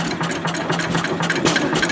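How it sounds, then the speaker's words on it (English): A restored antique stationary gas engine from Eastern Kentucky, once used to drive a water pump for oil well drilling sites, runs steadily at idle with a continuous low throb and rapid regular firing, loud and close. "This engine was used to run a water pump to pump water uphill to oil well drilling sites."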